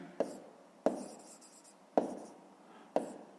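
Pen strokes writing out a math solution come as four distinct sharp taps at roughly one-second intervals, each trailing a brief scratchy scrape, close and fairly quiet.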